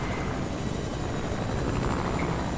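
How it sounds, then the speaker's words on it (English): A helicopter in the Fortnite video game keeps up a steady, dense rotor and engine roar that fills the whole stretch, loud and unbroken, with no talk over it. "Are you for real taking my chopper without me?"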